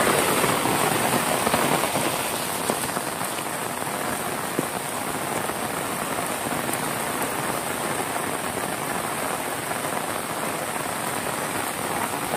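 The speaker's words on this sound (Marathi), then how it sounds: "डोंगरातलं सगळं पाणी इथून येत आहे बघा." Runoff water from a Konkan hillside rushes down after heavy rain, a dense, steady roar of splashing and pouring that fills the scene close by without pause and without any voices.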